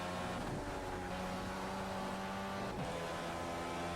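An IndyCar at Laguna Seca drives into turn 6, its engine a loud, steady high-pitched drone with a brief pitch dip near the end as it brakes for the corner, heard close from onboard.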